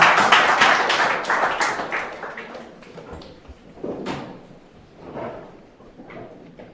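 A church congregation applauding, a dense burst of clapping that is loud at first and fades over several seconds, with scattered later claps and shuffling as people sit down.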